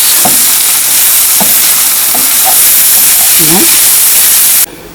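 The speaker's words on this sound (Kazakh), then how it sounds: "мынау қозы құйрығымызды де сонымен пиязбен қосып әдемілеп қуырып аламыз" Loud, steady sizzling and hissing of lamb tail fat and onions frying, with faint stirring sounds, cutting off abruptly near the end.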